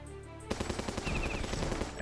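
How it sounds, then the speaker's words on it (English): Rapid machine gun bursts in the strategy video game Battle Nations, loud and close, following a short quiet lead-in and then rattling steadily with no talk. "And we got the machine gun, which doesn't do too much."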